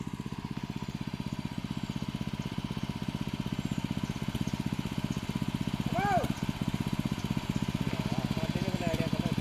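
The small engine of a power weeder runs steadily in a paddy field, a close, even putter with a brief rise in revs partway through, while people talk over it.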